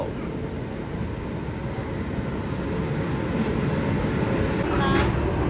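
Steady low rumble of a Vande Bharat train at Chennai Central railway station, a continuous broad hum that swells slightly near the end.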